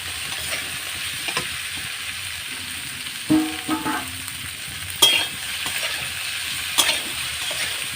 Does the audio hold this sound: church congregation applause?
no